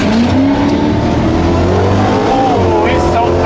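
A Ford Mustang Shelby GT500 at a drag racing event holds a loud, steady, roaring burnout with its engine note rising and falling, heard fairly close, while people talk and react over the noise.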